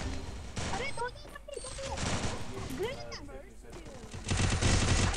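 Bursts of automatic gunfire from an online Counter-Strike-style shooter game during a ranked match, with rapid repeated shots and impacts mixed under excited Hindi voice chat from players.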